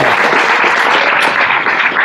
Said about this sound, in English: let's give him a big round of applause for his talk tonight